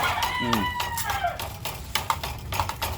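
Battery-caged laying hens clucking and calling in a poultry house, busy overlapping fowl vocalisations with squawks close by over a steady barn din, no talk.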